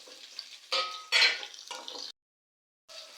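Onions and green chilies sizzle in a pan, stirred in several scraping bursts before a brief quiet pause and one more stir.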